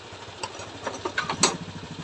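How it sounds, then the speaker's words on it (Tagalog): Motorcycle engine idling nearby, a steady low mid-range rumble with a few brief louder revs mixed in, no talk. "Testing mo na Wilson ang motor mo."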